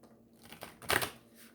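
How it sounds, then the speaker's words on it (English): A short, crisp riffle of cards being shuffled, rising to a quick papery burst near the middle, then fading into quiet. "One more shuffle."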